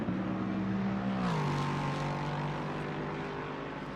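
A racing car engine at full throttle at Brands Hatch in a sim racing game, a loud steady harmonic roar that drops in pitch with a gear change, then holds steady and high.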